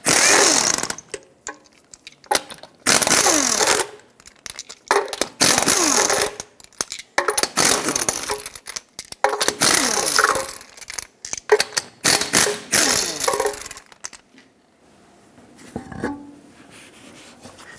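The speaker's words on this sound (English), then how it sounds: "Use a 21mm socket, remove all 6 of your lug nuts, and then take the wheel off." A 21mm socket on a power driver spins off lug nuts from a 1996-2002 Toyota 4Runner wheel, with loud, close, rattling bursts repeated in quick succession, then a quieter stretch with a few clinks.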